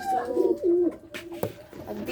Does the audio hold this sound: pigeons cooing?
yes